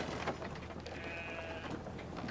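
Sheep bleating in the adventure video game Brothers, a single faint, wavering bleat near the middle over a constant background hum, heard alone without talk.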